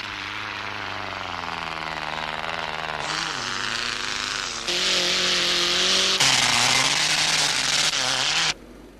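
A 1990 Lancia Delta rally car races at the Safari Rally in Kenya, its engine roaring loud and close and rising and falling through gear changes, with bursts of harsh broadband noise and an abrupt cutoff near the end.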